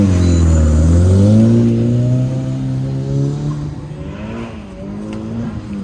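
A two-liter four-cylinder turbo Saturn and a V8 Camaro roar loudly in a shootout race at a Goodguys car show event, their engines pitching up and then easing off as they accelerate past nearby, with no voices heard.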